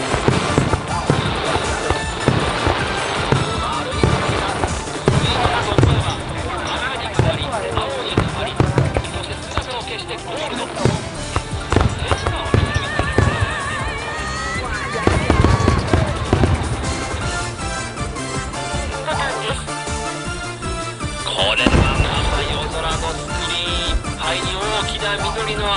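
Fireworks bursting at the 29th Kitaguni fireworks festival in Kawakita, with repeated sharp booms and crackles spread across the display while a commentator speaks continuously over them.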